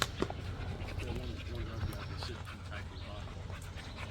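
A dog pants steadily and close by outdoors near off-road trucks, including a 2000 Toyota Tundra, while someone talks over the rhythmic breathing.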